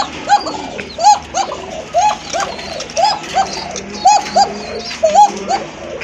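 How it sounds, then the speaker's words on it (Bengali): Koka pigeons coo loudly and close up, a steady series of rolling, throaty calls repeating about once a second, overlapping one another without any talking. "দেখেন কোকা কবুতর"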